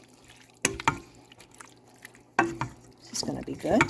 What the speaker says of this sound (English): Let's get these stirred in.